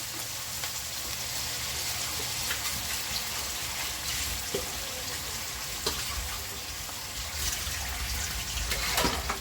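Steady rushing of water pouring into a cooking pan with tomatoes, continuous and close, with faint sizzling underneath and a few clinks toward the end.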